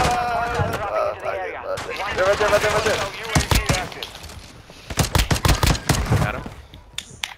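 Gunfire in Call of Duty: Modern Warfare II, with sharp close bursts of automatic shots in rapid clusters across the second half, following and overlapping with excited player talk early on.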